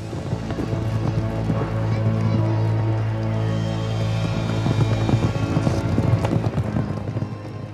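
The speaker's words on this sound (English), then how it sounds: "Horse racing at Ludwigslust." Horses gallop at a horse race in Ludwigslust, Mecklenburg. Dense, rapid hoofbeats blend into a loud, continuous wash layered under a sustained tonal drone.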